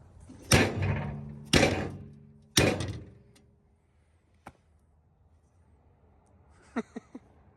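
Three loud, evenly spaced hammer whacks on a bent bumper from a 2018 Ram 3500 truck, laid across an anvil, each ringing briefly before a quiet pause and a few lighter taps near the end.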